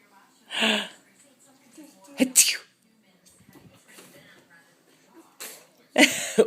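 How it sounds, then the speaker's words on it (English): An 11-month-old baby sneezes several times, with sharp bursts early, in the middle and near the end, and an adult talks softly between them. "Are you sneezing?"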